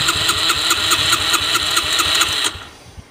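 A flooded motorcycle engine sputters and pops in rapid irregular firing for about two and a half seconds, loud and close, then cuts off abruptly.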